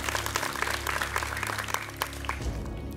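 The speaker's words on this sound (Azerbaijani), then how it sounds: "Turan Fərzullazadəni də biz alqışlayırıq." Audience applause for winners of an educational quiz show, a dense, steady wash of many hands clapping that fills the whole stretch, with a low hum underneath and a slight drop near the end.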